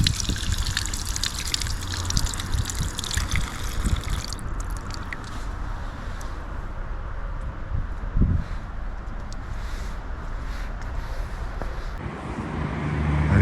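Water flowing steadily from a spring beside a church, a continuous splashing trickle close by, with faint traffic noise in the background.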